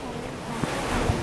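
Tsunami water rushing in the Roblox game Escape the Tsunami, heard as a continuous broad roar of surging water like surf, steady and fairly loud with a couple of soft thumps, no talk.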